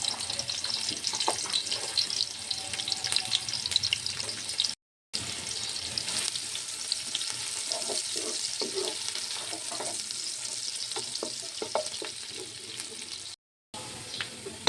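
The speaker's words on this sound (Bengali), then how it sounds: "দিয়ে দিলাম প্রায় হাফ কাপ পরিমাণ তেল, সাথে পেঁয়াজ কুচি দিয়ে দিচ্ছি।" Chopped onion hits about half a cup of hot oil in a pot for a large batch of khichuri, giving a continuous frying sizzle with occasional stirring scrapes and two brief dropouts.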